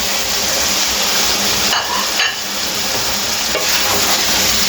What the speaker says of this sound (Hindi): इसको अच्छी तरह मिक्स करेंगे।